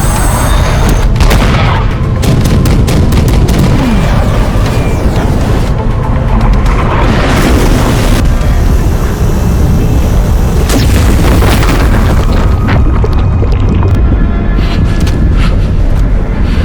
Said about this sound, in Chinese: 深水炸弹10枚，投放。